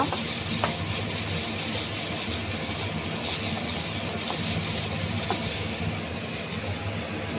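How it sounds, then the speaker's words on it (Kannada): Onions frying in a pan for chicken masala give a steady, even sizzle that runs the whole time with faint stirring clicks, close and continuous with no talking. "ಈಗ ಈರುಳ್ಳಿ ಫ್ರೈ ಆಗಿದೆ."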